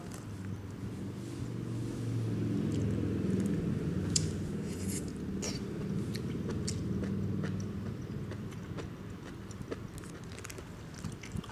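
Close, crunchy chewing of bamboo shoots with crisp bites and munching noises repeating steadily, no talking.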